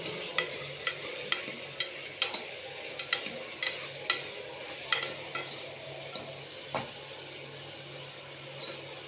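Onion, tomato and green chilli sauté with mustard seeds in a pan, a soft continuous sizzle punctuated by regular light clinks of a spoon stirring, fairly quiet and close.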